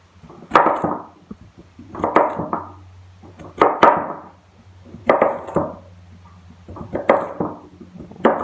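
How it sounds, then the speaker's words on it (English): A knife slices a sweet potato into quarter-inch medallions, giving six slow, evenly spaced cuts, each a sharp knock on the cutting board followed by a short crunchy tail, close and clear with a low hum behind. "I'm going to cut in medallions, I guess is what these are called. About 1/4 inch thick."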